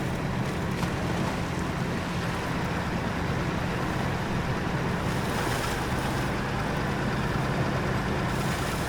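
An iX3880 truck with an eight-spot flatbed and no trailer ploughs through deep water in 4th gear in SnowRunner, set in the Yukon. A continuous loud rush and churn of water runs throughout, with faint engine drone underneath.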